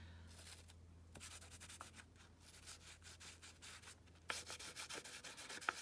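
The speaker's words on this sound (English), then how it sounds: "Kind of burnish it down." Paper being burnished down by hand during an alcohol ink blending craft, soft rapid rubbing strokes close up and faint, in short bursts with brief pauses.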